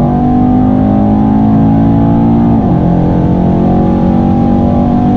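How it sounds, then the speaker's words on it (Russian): A Mercedes E63 AMG engine holds a loud, steady droning note, then the pitch dips slightly as if shifting, continuing at a constant strong level throughout. "Mercedes E63 AMG"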